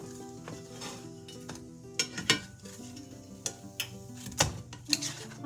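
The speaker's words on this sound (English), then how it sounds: "I can hear it now sizzling" Soft sizzling of a grilled cheese sandwich in a frying pan with intermittent scraping and clinks of a utensil against metal, fairly quiet and close.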